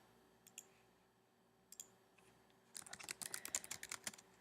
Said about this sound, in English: I'm going to type this out because it'll be a lot quicker